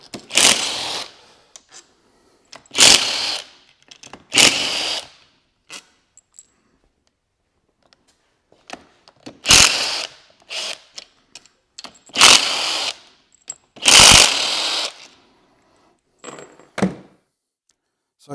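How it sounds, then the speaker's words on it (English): Bolts being worked loose from a Datsun 280Z five-speed gearbox in a home garage: scattered metallic clanks, thunks and ratchet-like bursts come in short separate clusters with quiet gaps between them, close by and fairly loud. "But get all these bolts out of here."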